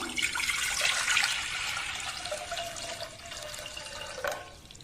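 Water poured from a vessel into a pressure cooker on the stove, a steady hissing stream close by that fills for several seconds and tapers off near the end.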